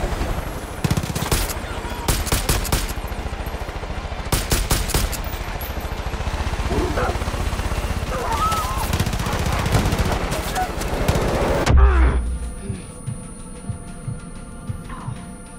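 Gunfire in the video game Far Cry 5, bursts of rapid automatic shots and heavy blasts clustered over a constant hum, ending abruptly before a quieter tail.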